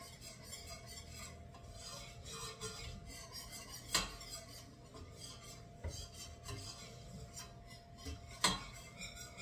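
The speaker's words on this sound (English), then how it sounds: "The reason I keep stirring is I don't want it to burn on the bottom." A spoon scrapes and stirs giblet gravy in a pan, making soft, rhythmic rubbing and rasping sounds close by, with a couple of sharper clinks against the metal.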